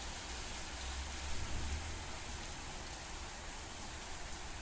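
Heavy rain falls steadily in the video game MAMIYA, a dense, even hiss of drops on surfaces with a low rumble swelling briefly in the middle and no voices.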